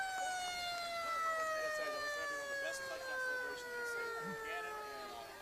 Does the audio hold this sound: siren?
yes